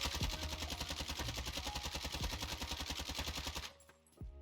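Rapid automatic gunfire in the video game Warzone, a fast steady burst of shots lasting over three seconds, loud and close, then stopping abruptly with a few faint trailing clicks.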